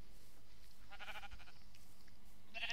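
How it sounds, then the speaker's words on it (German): A sheep in the Minecraft video game gives two short bleats, one near the middle and one at the end, over a faint steady background hum. "Dann erblicke ich ein Schaf."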